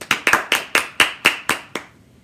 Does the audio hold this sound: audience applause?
yes